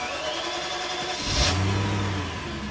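An E34 BMW in a home garage cranks briefly and catches, the engine firing up into a loud rev that settles into a steady, low idle, close by with no talking.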